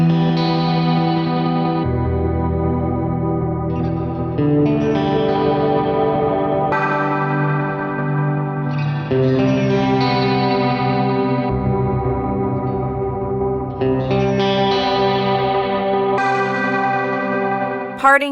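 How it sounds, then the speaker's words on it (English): Sustained guitar chords through a digital glitch delay pedal that randomly doubles or halves the delay, with shifting, stepped pitch and echoing repeats that jump up and down in pitch, loud and continuous, no voices. "The glitch knob on Parting controls the chance of the doubling or the halving happening"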